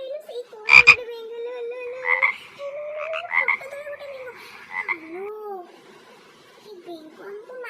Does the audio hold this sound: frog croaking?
yes